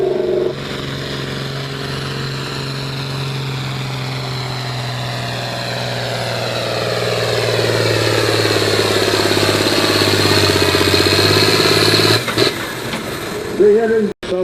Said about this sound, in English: Brandon Parr from Retreat, Wisconsin, John Deere 4250.